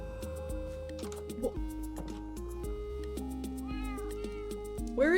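A pet cat meows a few times, faint and close, under steady blocky synthesized game music from modded Minecraft.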